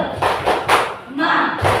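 A group does a rhythmic 'tepuk semangat' clap in a classroom icebreaker, with a few loud, evenly spaced claps and thuds mixed with voices chanting along.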